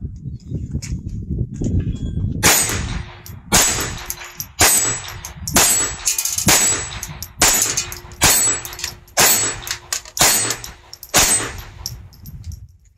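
A Glock 19 on a Polymer 80 frame fitted with an Advantage Arms .22 LR conversion fires about nine sharp, evenly spaced shots close by, each a loud crack with a brief ringing tail over a faint background rustle.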